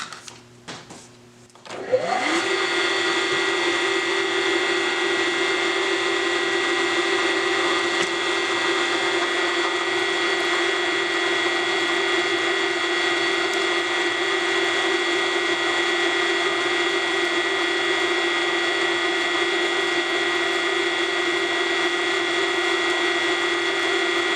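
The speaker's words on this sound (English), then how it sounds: "I don't guess it would hurt any to drill into this shaft some anyway" A power drill boring into a metal bandsaw shaft starts up after a brief pause and runs continuously at a steady high whine, loud and close, with no breaks for over twenty seconds.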